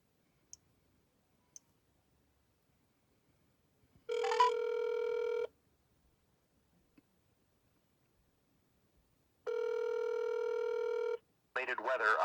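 A telephone call to an airport's automated weather line (AWOS/ASOS): a few faint dialing clicks, then two long, steady ringback tones separated by silence, and the line picking up at the end.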